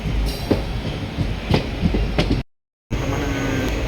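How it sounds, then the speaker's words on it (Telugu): A Tirupati to Guntur Express daily train rolls along the rails with a steady, loud rumble and rhythmic wheel clatter. The sound drops out completely for a moment, then the rumbling resumes. "ఇది Tirupati to Guntur express daily train"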